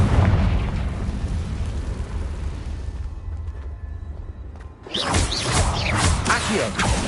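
A Confringo spell exploding in the Hogwarts Legacy video game: a loud, rushing blast with whooshing debris follows a quieter, rumbling stretch of play.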